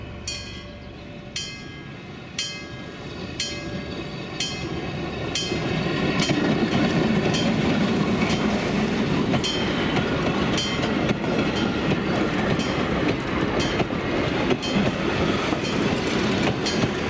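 Old Danish diesel-engined trains run along the rails, a steady loud rumble growing stronger partway through, with a regular clickety-clack of wheels over rail joints.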